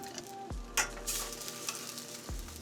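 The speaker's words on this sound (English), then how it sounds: "And we're gonna give that a little stir." Tongs stir food around a hot pan, with a steady sizzle of frying underneath and a few brief metallic scrapes and clinks, close and moderately loud, with no talking.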